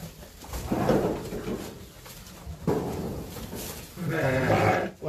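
Sheep bleating at a livestock market ahead of Eid, with several loud, wavering calls overlapping among background crowd noise, close by and repeated.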